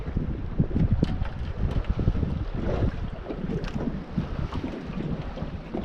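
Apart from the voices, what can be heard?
strong wind while fishing from a boat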